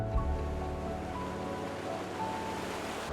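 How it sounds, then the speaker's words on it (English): Treated mine water from a treatment plant pours into a natural stream, a steady rushing wash of flowing water that holds evenly throughout with no voices. "This is where we discharge the water treated from the plant."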